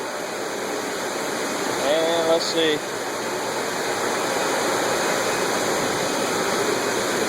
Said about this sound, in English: That big pump over there is pumping the water out of that tank into the boiler.